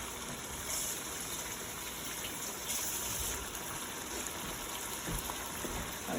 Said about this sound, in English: Just gonna wash my hands real quick because I have spinach all over them